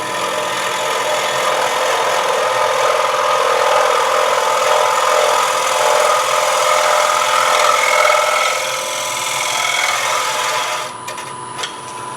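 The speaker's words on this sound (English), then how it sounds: "I'm letting the gouge find the bottom of that hole." A woodturning gouge cuts into the bowl of a wooden scoop as it spins, a loud continuous rasping shear over a low motor hum that eases briefly before the cut ends, with nobody speaking.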